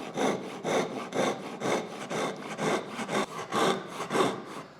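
Japanese ryoba pull saw cutting through wood in short, quick strokes, a steady rhythmic rasping of about a dozen close, loud passes with no talking.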